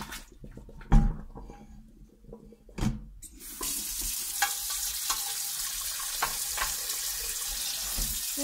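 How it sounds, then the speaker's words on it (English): Scrubbing out a cooking pan at a sink after soaking it with heat off: a few sharp scraping strokes and clatters, then steady running water from the tap with scrubbing and rubbing continuing underneath, fairly close. "then scrub out your pan."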